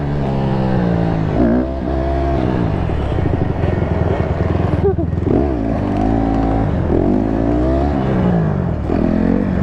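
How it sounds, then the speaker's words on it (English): A Banshee 300cc two-stroke quad engine revs loudly and close, rising and falling in several throttle blips over a continuous raspy drone. "We got the Banshee, the 300cc two-stroke."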